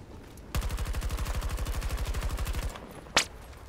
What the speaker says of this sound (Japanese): 撃ってきてる、撃ってきてる、敵敵敵敵